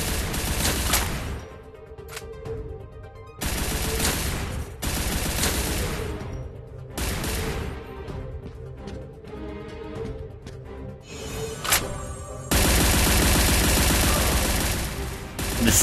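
Bursts of rapid automatic gunfire from the VR shooter game Strike Rush, loud repeated volleys separated by brief pauses, with a long sustained stretch of firing near the end.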